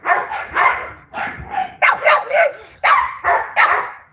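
A band dog barks repeatedly in loud, close bursts, about seven deep barks in an uneven rhythm with short pauses between them and no talk.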